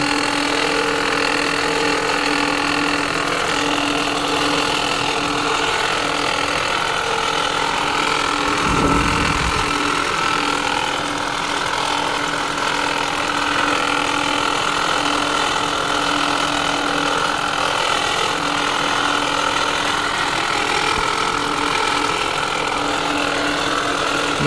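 A 2020 Ford Escape with the 1.5 engine runs steadily up close while its AC compressor keeps turning, giving a continuous mechanical drone with a faint knock-like texture and one brief low thump partway through.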